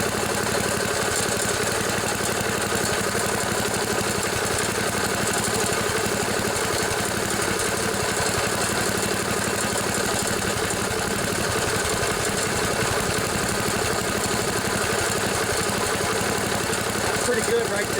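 The Tecumseh engine of a 1974 Sears Craftsman Rotospader rototiller runs loud and close at steady throttle, a continuous rough drone with a faint uneven sputter and no break throughout.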